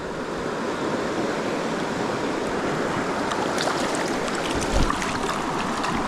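A Wyoming mountain creek flows in a constant, loud broadband rush and burble, steady from start to finish and heard close, with no talk.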